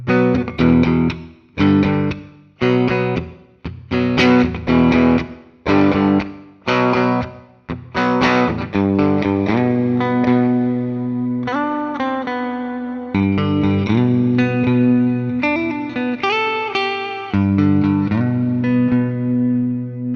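Distorted electric guitar through the bridge pickup of a 2003 Gibson 50th Anniversary Corvette Double Cut, bright, biting tone: choppy chords played in stops, then sustained notes and a run of single-note phrases, loud and close.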